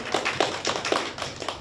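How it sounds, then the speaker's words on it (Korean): Light, scattered clapping from a small audience at a labor forum in Busan, individual claps audible in an uneven rhythm, moderately close. "큰 박수로 맞아주시기 바랍니다."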